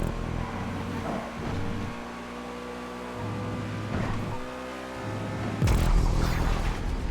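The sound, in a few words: supercar engine in a video game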